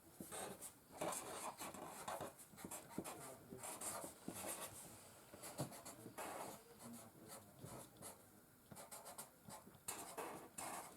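A Sharpie or pencil scratches across paper while a note is written, with repeated short strokes and scribbles that pause and restart, close by and fairly quiet, with no one talking.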